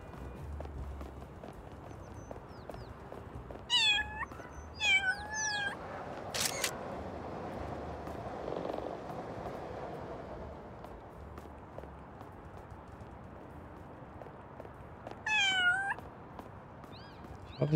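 A cat meows several times in Little Kitty Big City, short rising-falling cries spaced apart over soft ambient game background, one cluster early and another near the end, with a few light clicks in between.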